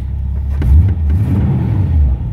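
Ford Vicky from 1934 with a V8 and Edelbrock four-barrel carburetor firing up and revving, a loud close low engine rumble with a few sharp throttle blips rising over a steady idle.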